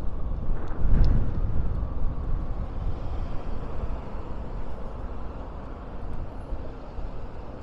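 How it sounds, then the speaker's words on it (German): Gusty wind buffets the microphone on an outdoor walk past shops in Maspalomas, Gran Canaria, making a steady, loud low rumble that swells briefly near the start and then holds. No voices are heard. "Ja, jetzt kommt Wind auf, das ist jetzt nicht so schön."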